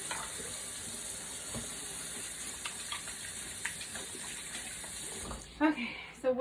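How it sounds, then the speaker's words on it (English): Tap water running into a kitchen sink while hands and a spatula are washed during bread making, a steady splashing gush that continues throughout, with brief clatter and handling sounds near the end. "let me get rid of this, wash my hands again,"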